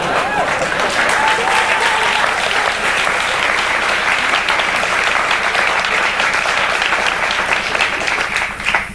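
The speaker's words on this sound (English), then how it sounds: "Applauding this now." Studio audience of a daytime talk show breaks into loud, sustained applause, a thick continuous roar of many hands clapping that holds steady for several seconds with no speech over it.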